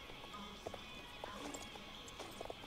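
Horse trotting in the video game Star Stable Online, with soft rhythmic hoof clops at a steady gait over a busy game ambience, fairly faint and continuous.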